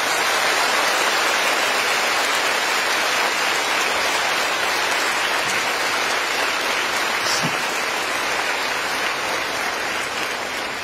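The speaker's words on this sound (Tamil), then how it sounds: "இந்த கைதட்டு பத்தாது நினைக்கிறேன் உங்க அம்மாக்கு." A large audience at a talk about mothers keeps up long, sustained applause, a thick hiss of countless claps blending into a steady, rain-like roar, loud and unbroken throughout.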